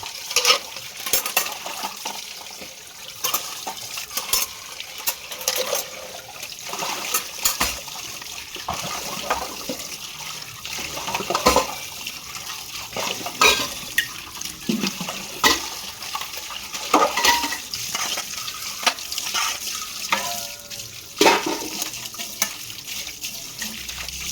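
Dishes are washed in a kitchen under a steady stream of running tap water, with continuous splashing and intermittent clinks and scrapes of utensils, moderately loud and close, and no one speaking.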